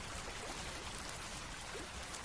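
Rain drips and patters off a tin shed roof beside an empty riverside ghat on a stormy night, a steady close wash of drizzle with small scattered drops throughout.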